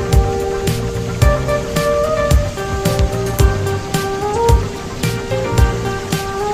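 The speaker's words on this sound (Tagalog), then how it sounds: "Lakas ng ulan." Heavy rain pours down on slow traffic in a dense, continuous roar, with steady tones and sharp periodic thumps mixed in close by.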